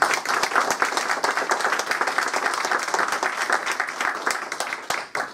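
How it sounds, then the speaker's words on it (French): Audience applause at an innovation awards event, dense and steady clapping from a room full of people that starts to thin out near the end. "On peut l'applaudir."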